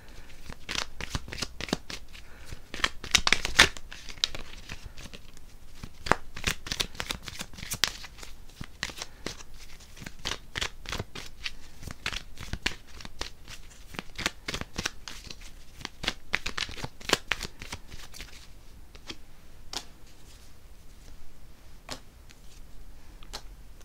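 Tarot cards are shuffled by hand in a long, close run of rapid crisp riffles and taps, dense and irregular, alone without talk.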